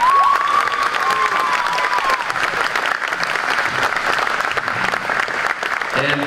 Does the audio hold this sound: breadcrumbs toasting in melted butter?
no